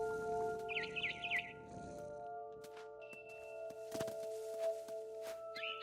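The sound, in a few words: barn swallow chirping in video game What Remains of Edith Finch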